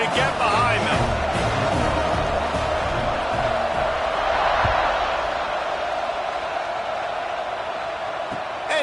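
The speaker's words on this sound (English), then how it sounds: "this crowd now ready to get behind them" A football stadium crowd at an Oregon game roars steadily at kickoff, a loud, dense wall of cheering and hubbub that holds for the whole stretch with scattered shouts rising from it.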